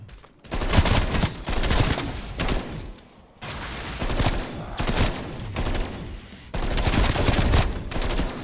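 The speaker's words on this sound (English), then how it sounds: "This shotgun's as good as anything for a one-shot kill" Shotgun blasts in Call of Duty Zombies, several heavy, loud shots in a ragged rhythm with brief gaps between bursts, close and dominant with no talk over them.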